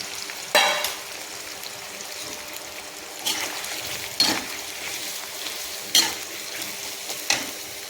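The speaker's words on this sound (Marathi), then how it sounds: "तर आपण भाजी घालणार आहोत त्याच्यामध्ये." Vegetables for sambar fry in a pan, giving a soft continuous sizzle broken by several sharp bursts as they are stirred or tossed, close and moderately quiet.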